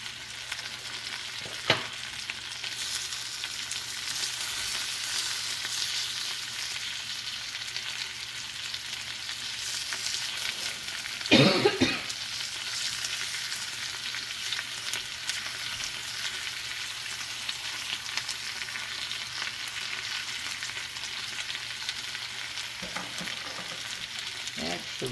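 Onions sizzle with pork in a pan as bolognese gets underway, a steady broad frying hiss running throughout with a few louder crackles and clatters of stirring near the middle and toward the end.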